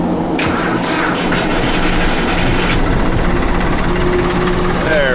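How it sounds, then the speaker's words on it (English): A small scraper tractor driving along, its engine a loud, steady, close rumble with constant mechanical rattling and clatter that never lets up. "when I get down there with our little scraper tractor"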